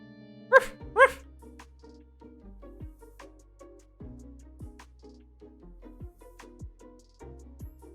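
A dog lets out two sharp, loud barks at the start, then falls quiet while faint thumps and low background sounds continue in a mostly still room.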